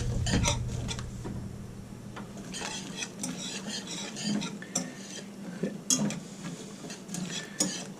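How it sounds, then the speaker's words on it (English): Onions cooking in a pot for a homemade chicken pot pie, heard mostly as a utensil stirring and clinking against the pot with soft scraping, in quiet irregular taps and knocks. "we're going to go ahead and put our onions in there. Now we're just going to cook these onions until they're translucent"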